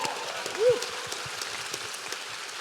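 Scattered clapping rises from a panel audience at SCAD, a light, sparse patter sitting under a brief vocal sound and a quiet room.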